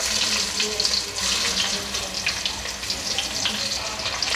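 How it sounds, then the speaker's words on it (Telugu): Onion pieces and whole spices fry in hot oil, a dense, even hiss and bubbling crackle that is close and steady throughout, with no voices. "ఇప్పుడు ఆయిల్ హీట్ అయింది. ఈ స్పైసెస్ అన్నీ వేసుకుందాం ఆయిల్లో. ఇప్పుడు వెంటనే ఉల్లిపాయ ముక్కలు వేసుకుందాం."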